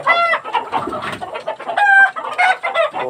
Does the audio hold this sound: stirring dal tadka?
no